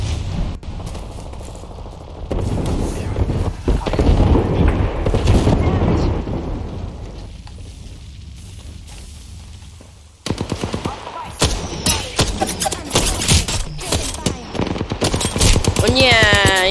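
Gunfire from the video game Apex Legends: bursts of rapid automatic shots and booming impacts, loud and close, with a brief quieter lull before a renewed string of sharp cracks.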